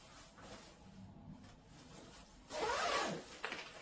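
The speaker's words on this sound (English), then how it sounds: "So we'll zip it up." A women's waterproof ski jacket zipper is pulled up in one quick, close rasping stroke after a few seconds of soft fabric rustling.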